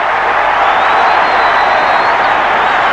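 Penrith home crowd roaring at a 1984 rugby league match against Manly-Warringah, a loud, dense wall of stadium noise sustained throughout with no distinct voices standing out.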